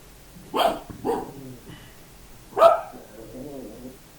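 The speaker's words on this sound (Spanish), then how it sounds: "Concierto de perros." Dogs bark in a few sharp, separate bursts, two quick barks followed by a louder third after a pause, then softer whimpering or grumbling fades out against a quiet indoor background.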